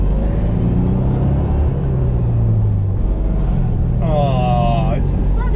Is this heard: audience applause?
no